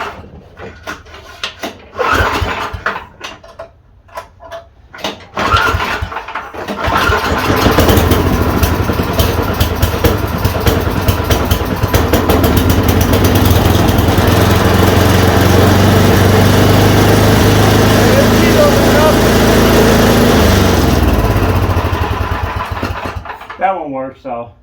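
Yard Machine 826 snowblower engine cranked and starting, with clunks and pulls before the small engine catches and runs at a loud, steady roar for about fifteen seconds, then winds down; a person talks near the start.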